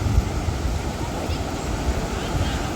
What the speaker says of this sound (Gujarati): તો દરિયાની મસ્ત મસ્ત વેળો આવે છે, મોજા આવે છે.